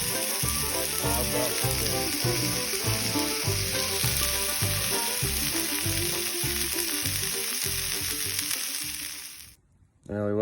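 Steak sizzling loudly over a campfire at a riverside campsite, a steady dense crackle throughout with rhythmic bursts, cutting out abruptly near the end.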